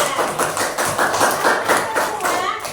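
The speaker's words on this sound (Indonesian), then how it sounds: "Tepuk tangan kelompok tiga" Group three of pupils is applauded by a classroom, a steady patter of many hands clapping at close range for the whole stretch, with some voices under it.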